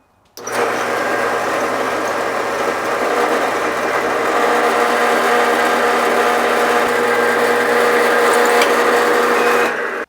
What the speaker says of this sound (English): So we'll drill a pilot hole in all of them the same size